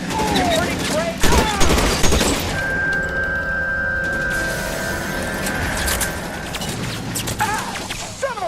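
Gunfire rings out in a video game firefight, sharp bursts and impacts scattered across the scene amid busy game noise, with a sustained tone in the middle and voices talking around it.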